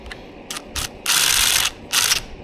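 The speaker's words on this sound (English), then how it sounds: "I'm going to go get my 8mm and I'm going to run these things in with the wrench" An 8mm ratcheting wrench driving bolts into the stator cover of a Suzuki DRZ400SM engine during a rebuild: three short clicking bursts, then a longer run of close, crisp ratcheting and one more burst.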